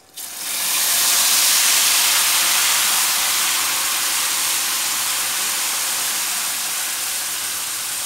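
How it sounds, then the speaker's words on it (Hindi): A milk, egg and sugar mixture poured into hot semolina for halwa, bursting into a loud, steady steaming hiss that rises quickly and holds for several seconds before easing slightly, close and with no talking. "तो अब इसके अंदर हम डालते हैं जो हमने दूध, अंडे और चीनी मिक्स करके रखी हुई ना"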